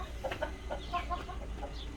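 Laying guinea fowl hens cluck in short, soft, close calls, a few clustered bursts over a low steady hum, with no voices.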